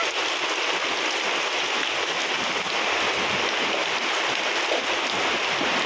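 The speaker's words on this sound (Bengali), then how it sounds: "গাছপালা মনে হয় সব ভেঙে যাবে এত জোরে জোরে বৃষ্টি হচ্ছে" Heavy rain pours down steadily, a dense, constant hiss of drops drumming on surfaces, close and loud throughout with no voices.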